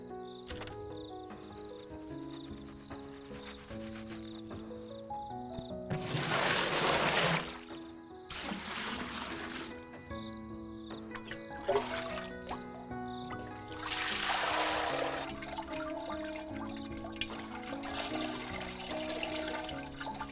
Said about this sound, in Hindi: इस राख को मैंने छानकर पानी में मिला लिया।